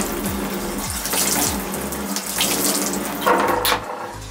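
Water runs steadily from a tap during washing up away from the basin, a constant close splashing rush with low gurgling tones throughout.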